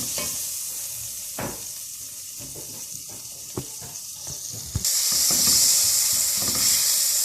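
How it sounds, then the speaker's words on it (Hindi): Butter and oil sizzle in a pan at the start of a white sauce for chicken lasagna, stirred with occasional spoon knocks over a steady hiss that grows louder and brighter toward the end. "थोड़ा ऑयल डाल के इसको चलाएंगे।"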